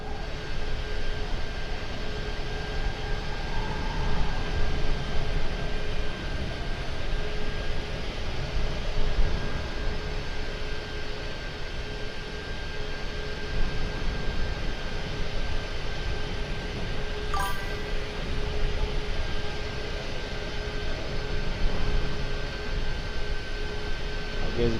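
A Delta airliner climbs in Microsoft Flight Simulator 2024 with a steady, continuous jet engine roar and a high whine held throughout, with no talk over it.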